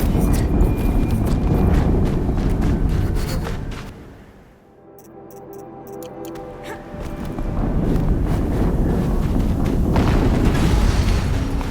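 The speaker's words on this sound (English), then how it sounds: "Another explosion." Explosions in the video game Horizon Zero Dawn: loud booming blasts with dense crackling debris, dropping to a brief hush in the middle before another heavy roaring burst builds and sustains.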